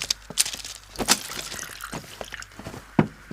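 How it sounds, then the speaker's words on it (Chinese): Water is poured into a vessel in an ancient-style domestic room, with short splashy bursts and trickles at uneven intervals, close and fairly clear. "慧儿，倒水"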